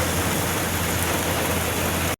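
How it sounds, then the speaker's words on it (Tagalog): Heavy rain pours down at a port in a dense, unbroken roar, loud and close throughout, before stopping abruptly at the end. "Lakas na ng ulan guys."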